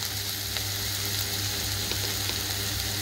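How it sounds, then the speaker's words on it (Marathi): Ginger garlic paste fries with sautéed tomato for a prawn masala, producing a continuous close sizzle with faint pops and no talk. "टोमॅटो जर परतून झालाय, आता आपण आलं लसूण पेस्ट टाकूया।"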